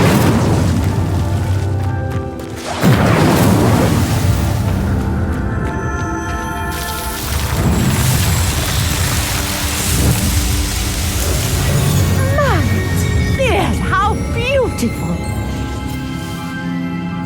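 Incendio fire spell setting a pyre alight and making it sink in the Hogwarts Legacy video game, with roaring, booming flames and crackling bursts layered over game music and magical effects.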